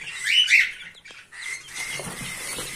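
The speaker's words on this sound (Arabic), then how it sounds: "صوت العصافير والحمام" Sparrows and pigeons chirp and squawk close by, with a burst of bright twittering early on, then softer calls over a low background, no voices.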